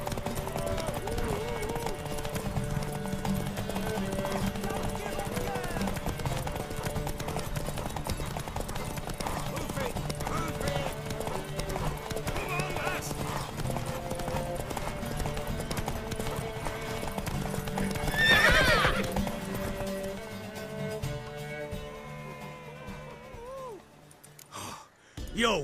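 Horse hooves clip-clop steadily through a race in The Witcher 3 video game, a continuous rhythmic beat under game music and character dialogue, building briefly near the end before fading.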